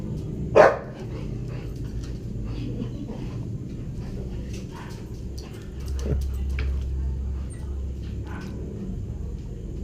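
A dog gives a sharp bark near the start, then a few fainter yips and movement over steady background noise.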